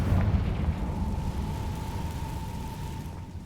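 A Confringo spell blast in a Harry Potter video game, a heavy booming explosion that opens loud and decays into a rumbling, crackling tail lasting several seconds.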